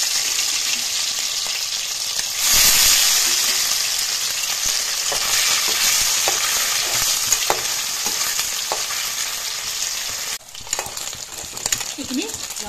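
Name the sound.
frying pieces in hot oil in a wok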